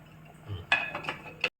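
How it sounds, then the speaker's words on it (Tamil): A metal lid clatters onto a boiling pot of rice and dal, one sharp clink followed by a second short rattle, close and fairly quiet. "இனி மூடி போட்டுடலாம்"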